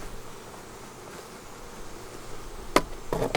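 Honey bees buzz in an open hive during a fall hive inspection, a soft, steady hum close by, with a couple of sharp clicks from hive tools or frames near the end.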